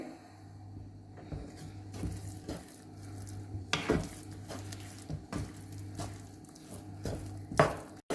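Poppy seeds stirred in ghee in a pan over medium flame give soft scraping and faint sizzling, broken by a few sharp spoon clinks against the pan, over a steady low hum.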